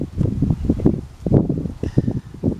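Wind gusts buffet a microphone outdoors, with steady rustling and rumbling throughout and no speech.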